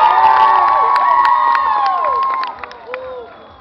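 An audience cheers and shouts with excited, whooping voices for a performer called Mumia at a live stage event. The cheering is loud and steady at first, then fades toward the end.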